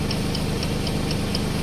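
Engine driving an alternator, a steady droning hum with a regular ticking knock repeating about four times per second, loud and close, nobody speaking.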